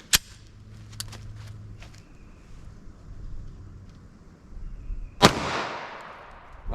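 Two sharp gunshots from a 5-inch-barrel M&P 9mm pistol firing Federal Punch 115-grain rounds, one at the very start and a louder, closer crack near the end with a ringing outdoor decay, separated by quiet wind and ambient noise.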